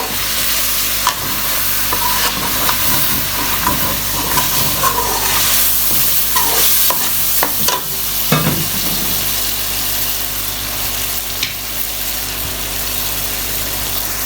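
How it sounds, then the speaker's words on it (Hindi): Meat and spices fry loudly in a pan with a constant hissing sizzle, broken by scraping and stirring knocks from a utensil against the pan; no voices. "सारे मसालों को डाल के आप अच्छे से मसालों को भून लें"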